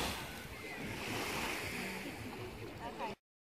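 Surf washing onto a beach at Magens Bay, St. Thomas, with wind buffeting the microphone, a broad rushing roll that cuts out abruptly near the end.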